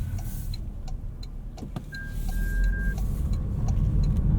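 A 2.5-liter engine in a 2026 Toyota RAV4 Limited runs as a low, steady hum from inside the cabin, growing slightly louder partway through, with a brief electronic chime and faint ticking over it and no talk.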